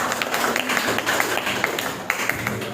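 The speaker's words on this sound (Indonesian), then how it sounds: "tepuk tangan untuk anak-anak" Children and teacher applauding in an Indonesian classroom: a brief burst of quick, dense, fairly close clapping, with a voice faintly underneath.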